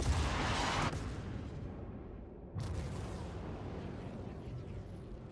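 Heavy ship weapons on a 600i in Star Citizen fire in two loud, broad booming bursts, the first about a second long, the second a few seconds later, each trailing into a rumbling decay.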